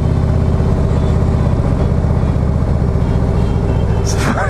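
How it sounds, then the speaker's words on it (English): A new Harley-Davidson Street Glide is ridden at road speed, its engine a loud, steady drone with a transmission whine beneath it and continuous wind rumble. "the transmissions of these things sound like an old granny gear in an old truck"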